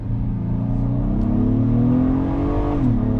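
A 2022 Acura MDX engine revs up steadily in manual paddle-shift mode, the pitch climbing smoothly toward the rev limit before dropping at a shift, loud and continuous from inside the cabin with no talk.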